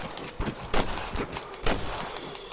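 Rapid bursts of gunfire from the Red Dead Redemption video game crack out in several quick shots over a couple of seconds, loud and close, with irregular spacing and no talk.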